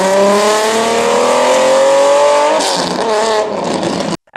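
A Ferrari F50's 4.7-liter naturally aspirated 65-degree V12 screams loudly and climbs in pitch, then shifts and roars on before cutting off abruptly.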